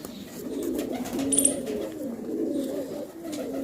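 Soft, low cooing of Oode pigeons from Tonk repeats in a throaty rolling rhythm, close by, with a brief faint chirp partway through.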